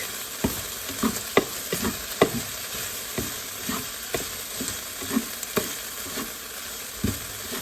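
Thin slices of ginger pork for Japanese shouga yaki fry in a pan with a steady close sizzle, punctuated by regular soft scrapes and taps from turning the meat about every half second, with no talking.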